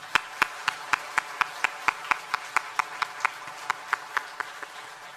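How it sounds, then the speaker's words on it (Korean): Slow, evenly spaced single claps, about four per second, sharp and fairly close, continuing steadily without voices, from a church congregation during a Sunday morning service. "우리 그분들께 환영과 축복의 박수를 드리겠습니다."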